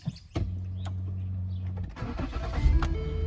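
A Ford 3.5 or 3.7 V6 cranks briefly and catches, starting promptly and settling into a steady idle after a camshaft position sensor replacement, heard up close with no talk.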